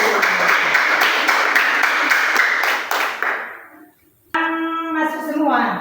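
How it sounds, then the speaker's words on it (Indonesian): An audience claps together, a dense, steady burst of applause that thins out and fades over about three seconds, followed by a brief pause and then a tonal voice or music. "tepuk tangan dulu"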